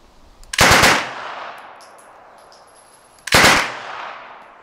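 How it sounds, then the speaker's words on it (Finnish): A Suomi submachine gun fires two short, loud bursts at targets outdoors, each a sharp cluster of shots followed by a long fading echo, separated by a few seconds of near quiet. "Ja lyhkäisiä sarjoja ja saat ampua mitä nyt tauluja haluat."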